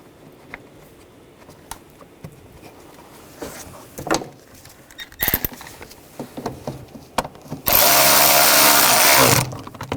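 Power drill driving screws into an air duct during thermostat housing work on a Volkswagen Tiguan, one loud steady whir of about two seconds near the end, preceded by quiet clicks and handling noise.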